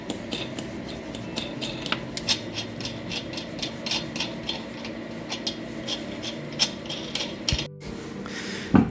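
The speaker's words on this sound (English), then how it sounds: "Then take the lug nuts all off." Lug nuts coming off the wheel of an 08-17 Buick Enclave, a quick ratcheting clatter of metal clicks in repeated bursts, fairly close and moderate in level, with no talk.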